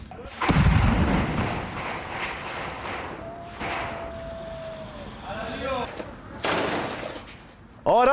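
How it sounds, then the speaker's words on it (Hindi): A weapons depot belonging to Hamas is blown up in Khan Younis, Gaza, heard as heavy blasts and booming bursts that rise and fall in waves, with a news anchor speaking over them. "भारी विस्फोट के साथ हमास का हथियार डिपो उड़ाया"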